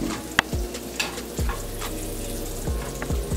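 Toast frying in butter in a pan, a steady close sizzle broken by several clinks and scrapes of a utensil stirring or moving the bread.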